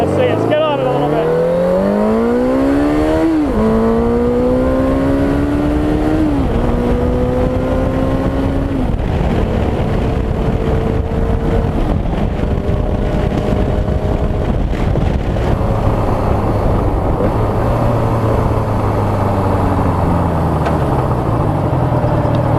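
A Suzuki bobber with a 16-valve four-cylinder engine and six-speed gearbox accelerates hard, its loud, close revs climbing and dropping through several gear changes before settling into a steadier drone, with heavy wind rush throughout.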